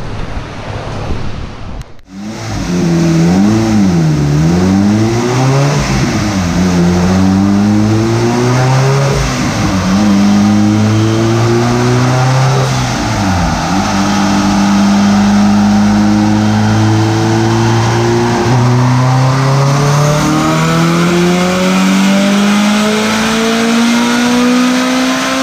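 A boosted Honda CRX engine revs hard on a dyno after a brief pause, loud and continuous, its pitch sweeping up and down through repeated climbing pulls with a roaring wind-like wash over it.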